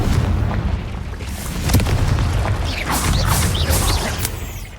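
Confringo blasting spells in Hogwarts Legacy, a continuous barrage of heavy booming explosions and magical whooshes rolling one into another at close range.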